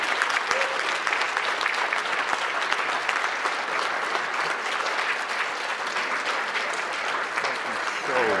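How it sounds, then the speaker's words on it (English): Audience applause for a speaker named Richard at a talk on crystal skulls and space topics, a steady, dense wash of many hands clapping that holds at an even level throughout, with a brief voice near the end. "A round of applause for Richard"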